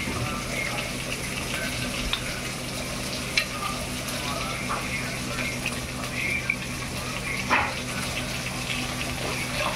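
Tomatoes and coriander with green chilli fry in a pan, a steady close sizzle with occasional stirring clatters and small scrapes, and brief speech in places.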